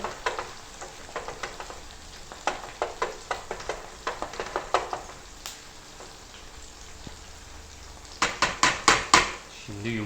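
Salt is stirred into an egg mixture in a pan, making a series of quick rhythmic scraping clicks. The strokes pause midway and then return in a faster, louder burst, over a faint sizzle.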